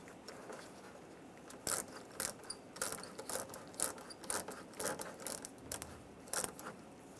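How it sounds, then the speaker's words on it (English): A hose clamp being tightened on the upper radiator hose of a 2002-2008 Dodge Ram 1500, a series of quiet close clicks and scrapes from the tool in an uneven rhythm. "Put the upper radiator hose back on the radiator and move the hose clamp. And we'll tighten that down."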